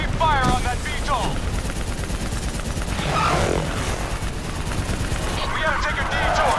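Rapid automatic gunfire in Call of Duty Black Ops 3 combat, dense overlapping bursts throughout, with shouted voices over the firefight.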